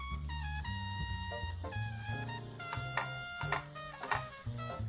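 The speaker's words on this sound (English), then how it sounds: "Let's toast the burger bun." A burger bun toasts in a pan over a high flame, with a soft sizzle running under backing music that has steady melodic notes and beats. The frying sound stays faint and continuous throughout.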